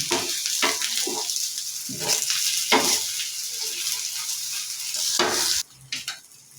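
Sabudana (sago) patties fry in a pan with a steady, loud sizzle, broken by a few scraping turns and clinks of a spatula, with no talking.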